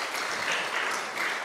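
A church congregation applauds, a dense, continuous clapping of many hands that stays even and fairly loud throughout, with no speech over it.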